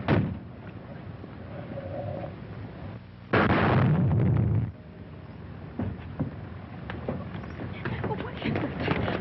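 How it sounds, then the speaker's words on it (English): A car motor exploding in an old movie: one loud, sudden blast lasting about a second, with quieter rumbling and scattered knocks after it. Voices talk before and after the burst. "The motor exploded."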